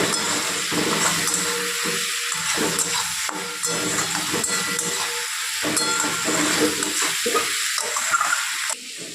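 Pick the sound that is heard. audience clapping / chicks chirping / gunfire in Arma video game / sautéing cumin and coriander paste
sautéing cumin and coriander paste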